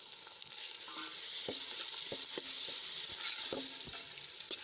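Finely chopped tomatoes go into a pan of sautéed onions with garlic and chili paste, a steady hiss of oil under repeated spatula scrapes and knocks against the pan, close and fairly loud, no voices.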